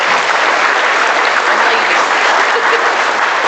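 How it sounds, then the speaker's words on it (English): Steady round of applause from an audience at a North American International Livestock Exposition 4-H awards breakfast, dense and even throughout without voices. "I think we need to give the North American International a round of applause for this breakfast"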